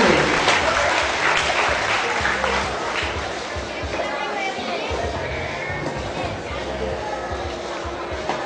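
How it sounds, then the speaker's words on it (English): A crowd of students at a high school leadership training applauds loudly and continuously, the clapping gradually thinning while background chatter and voices carry on beneath it. "What about another big round of applause for them?"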